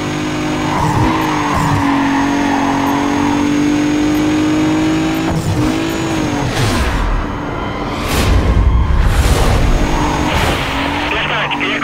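A green Mitsubishi Eclipse GT in Need for Speed Carbon revs hard in a police chase. Tires squeal and skid, engine pitch sweeps up and down, and whooshes pass by. The car noise is loud and continuous under police radio chatter.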